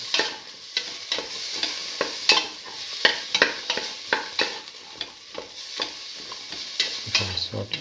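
Bottle gourd sautéed with red chilli in a pan, a spatula scraping and tossing in repeated close strokes over a constant sizzle, with no voices.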